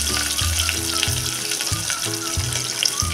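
Sliced onion and curry leaves sizzle steadily in hot oil, with a bright, continuous frying hiss and occasional stirring scrapes close by.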